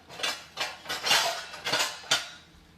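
A metal spatula scrapes and clanks against a pan while turning cauliflower being fried until browned, with five or six distinct knocks in an uneven rhythm, close by and with no talking.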